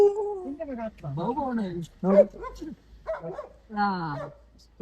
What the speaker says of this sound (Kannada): ನೋಡಿ ನಾಯಿ